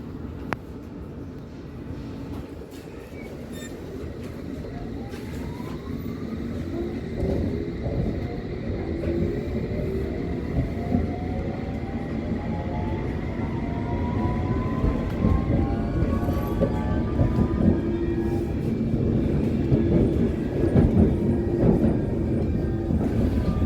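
From inside a London Underground S Stock Hammersmith and City line train, the car accelerates with rising motor whines sweeping upward over a steady, growing rumble and faint wheel clatter.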